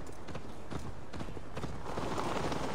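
A horse gallops in Assassin's Creed Valhalla, a rapid, close clip-clop of hooves under a steady wash of ambient game noise, with faint speech in the background.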